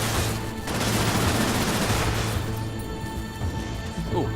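Rail cannons fire in a continuous barrage of heavy gunfire-like blasts and crashes in the sci-fi shooter Cryptark, loud and dense throughout, easing slightly toward the end.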